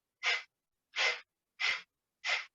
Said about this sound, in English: The breath is called Kapalbhati, breath of fire